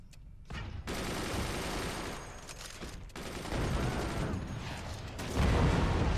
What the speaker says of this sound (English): He weakened it a little bit with some machine gun fire, is what it looks like.